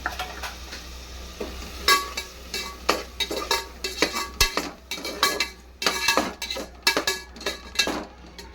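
Egg biryani masala with green chillies and yogurt being stirred in a pan, with repeated loud scraping and clinking strokes of a spoon against metal over a soft sizzle, close and irregular.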